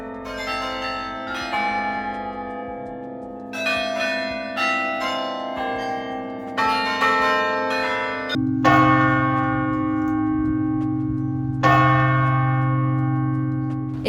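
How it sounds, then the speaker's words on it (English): Church bells of the Bruges belfry tower ringing up close, a series of loud struck peals with long ringing decay, the strikes layering into a dense overlapping chime, with no talking. "You can also hear the bells up close and personal."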